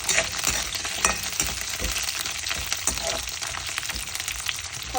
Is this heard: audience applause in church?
no